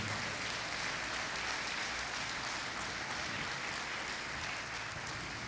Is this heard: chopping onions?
no